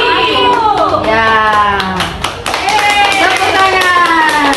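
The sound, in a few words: classroom applause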